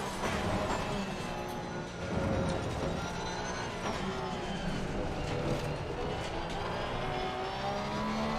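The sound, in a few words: race car exiting the pits at Misano in a video game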